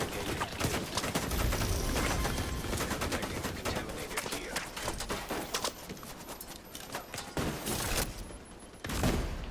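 Rapid gunfire and a sniper shot in the online shooter The Division 2, with dense clattering bursts of shots throughout, loud and close, easing off briefly before a final burst.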